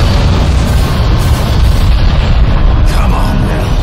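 Forward cannons on a spaceship fire in the video game Bulletstorm, a loud, continuous barrage of deep booming blasts that merge into a dense rumble for several seconds.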